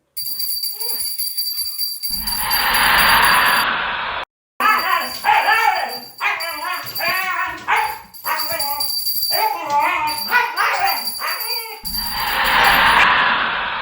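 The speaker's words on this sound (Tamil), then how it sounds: "மணி அடித்து பார்ப்போம், நாய் குலைக்குதான்னு." A dog in a film barks repeatedly after a bell rings, with sharp barks and yips in close, quick bursts, broken by brief pauses and sections of shrill ringing tone.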